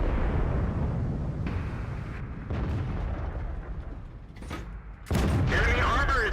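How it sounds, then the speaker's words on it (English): Tank cannon and machine-gun fire in World of Tanks, an AMX-50B light tank firing at enemy tanks: loud booming bursts with rumbling tails, a sharp blast near the end, with a voice talking over parts of it. "you can see him unleashing a hail of bullets on those enemy tanks"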